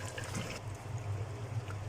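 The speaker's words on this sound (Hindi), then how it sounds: "इसमें पानी ऐड कर देंगे।" Water is poured into a pot of beef nihari after the meat and spices have been fried, a soft steady trickle and splash heard faintly and alone, no talk.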